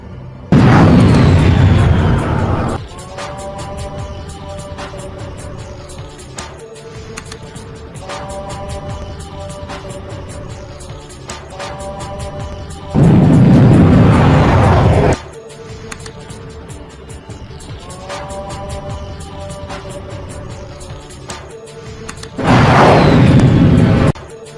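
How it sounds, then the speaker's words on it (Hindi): A missile launched from a school explodes in a heavy, booming blast, repeated as three loud roaring bursts separated by quieter stretches of ringing, tonal, dramatic score-like sound. "सर उन्होंने स्कूल से एक मिसाइल छोड़ दिया है।"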